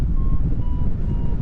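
A vehicle's reversing alarm beeps at a steady interval, faint and thin over strong rumbling wind noise at a hang gliding launch site, with roughly three beeps heard.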